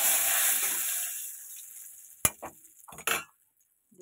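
A bay leaf dropped into hot oil gives a bright, hissing sizzle that fades over a second or so, then a few sharp clinks and scrapes of a utensil stirring in the pan before it falls quiet.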